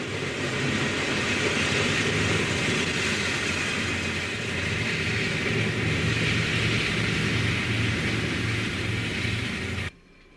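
Pennsylvania Railroad passenger trains, including the Broadway Limited near Gary, pass each other in a meet, producing a loud, continuous rolling roar of wheels and cars that cuts off abruptly near the end.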